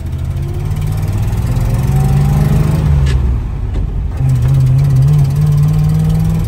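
A 1954 Ford Mainline engine runs loud and close, a steady rough idle that swells briefly in pitch, dips, then settles back into a strong, even hum.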